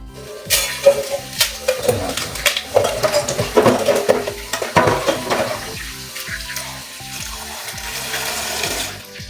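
Bihon noodles are stirred and turned in a pan over a wood fire, with repeated scraping and clattering of a utensil against the pan in an irregular rhythm under a steady sizzle, loud and close, easing off toward the end.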